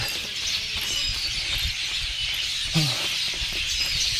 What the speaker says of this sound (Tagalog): Maririnig yung mga huni ng ibon.